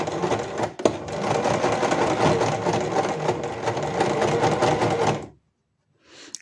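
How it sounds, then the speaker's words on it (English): A sewing machine stitches fabric binding in a loud, steady whirring run of rapid needle strokes, stopping abruptly near the end, followed by a brief faint sound. "So now I'm going to go ahead and I'm going to start sewing."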